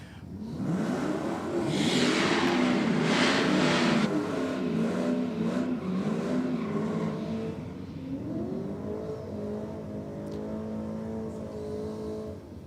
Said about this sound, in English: short little burnout for the VZ